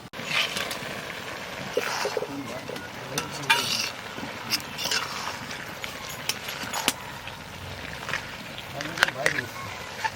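Fish heads go into a hot pan with tender kalai greens, turmeric and green chilli paste, sizzling and frying steadily as they're stirred, with scraping and bursts of spattering at close range throughout.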